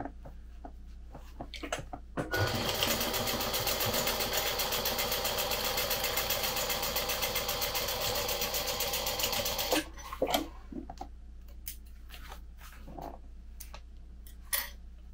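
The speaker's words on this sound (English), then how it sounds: "I am going to just top stitch the top" Sewing machine top stitching a card wallet piece in one continuous fast run of about eight seconds, a close, even mechanical whir and tick, framed by quiet handling noises before and after.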